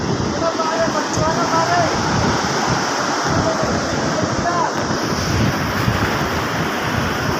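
Rough surf pounding the shore during Typhoon Inday, a continuous loud roar of breaking waves mixed with heavy wind buffeting the microphone, steady and close with no distinct pauses.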